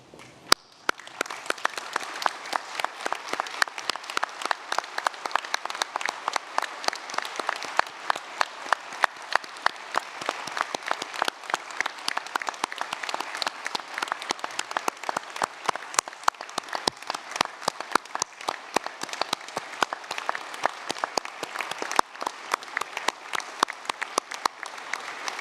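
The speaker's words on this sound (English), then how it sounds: "join me once again in applauding these graduates" An audience at a University of Newcastle graduation ceremony gives the graduates sustained applause, a dense wash of many hands clapping steadily for about twenty-five seconds.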